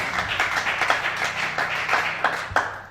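Congregation clapping together during a church worship service in Libreville, a dense, steady stretch of many hands with a few sharper, louder claps standing out near the end.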